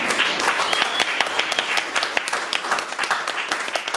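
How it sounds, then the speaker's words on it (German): Concert audience applause at a jazz revival show, a lively mix of individual hand claps standing out sharply over a general crowd clatter, with the clapping thinning unevenly toward the end. "das ist dein Applaus."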